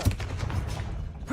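In Hogwarts Legacy, a Confringo spell goes off as a short, booming blast that resembles gunfire. A low thud comes first, followed by a crackling rumble that fades over about a second, loud and close.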